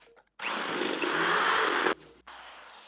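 A power drill with its bit pushed through holes to enlarge them in plastic whirs steadily for about a second and a half, close and loud, then cuts off before a brief second burst.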